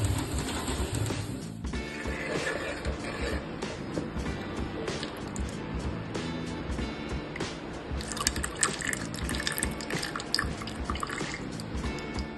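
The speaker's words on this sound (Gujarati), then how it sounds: "માખણમાં રહેલી ખટાશને દૂર કરવા માટે તેને 2-3 પાણીથી ધોવું જરૂરી છે" Butter being washed in water in a vessel to make desi ghee gives continuous close splashing, sloshing and dripping, with wet squishing bursts throughout.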